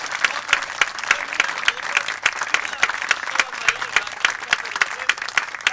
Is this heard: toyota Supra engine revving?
no